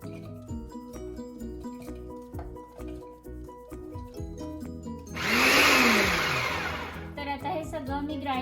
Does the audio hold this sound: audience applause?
no